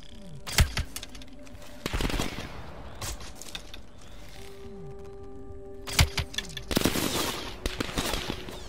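Machine gun fire in Call of Duty Black Ops Cold War rattles in short, loud bursts spaced a second or two apart over a busy game soundscape, with faint voices underneath.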